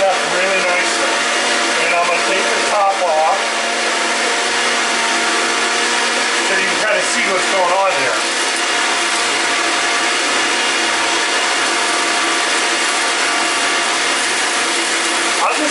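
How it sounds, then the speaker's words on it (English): A Vitamix blender runs at its highest speed, blending a smoothie of spinach, romaine, cucumber, avocado, apple and pear. It gives a steady, loud, close whir throughout, with small pitch shifts early on as the contents churn. "this is at the highest speed that blender will go"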